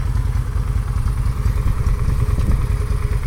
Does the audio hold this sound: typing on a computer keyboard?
no